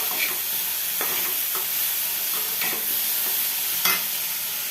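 Food fries in a pan with a steady sizzle while a spoon scrapes and stirs it in several distinct strokes. The strokes are spaced through the clip, with no voices.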